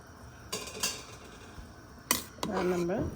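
Rice being stirred into a pot of bagara rice: a few sharp clinks and scrapes of a spoon against the metal pot, then a brief burst of mixing near the end.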